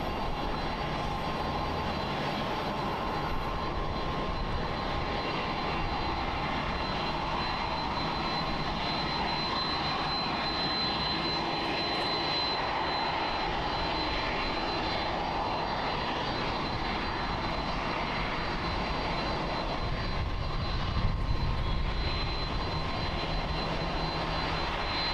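A Japan Airlines Boeing 777-300ER jet lined up on runway 16L at Haneda Airport, Tokyo, gives a steady, distant engine roar and hum that holds evenly throughout, swelling slightly near the end.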